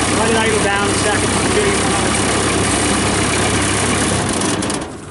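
A Kubota diesel engine on a 2007 Finn B70 skid-mount straw blower idles steadily and loudly up close, a dense continuous drone that fades slightly and cuts off near the end.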